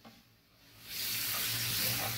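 Water is poured into a pan of cooking chicken: near-quiet at first, then a sudden loud hissing sizzle that holds steady for over a second.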